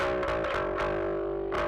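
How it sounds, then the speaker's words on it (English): A distorted, high-passed bass line from a music production plays loud and gritty, with a few rhythmic swells and a sharp re-attack near the end of the short excerpt. "You can see there's a bass distortion track which I lean into."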